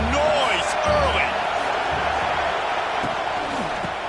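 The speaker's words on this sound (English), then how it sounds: "This crowd bringing the energy and noise early." Stadium crowd in a college football video game, Oregon against Oregon State, giving a steady broad roar under a commentator's voice, with scattered cheers and whistles rising over it.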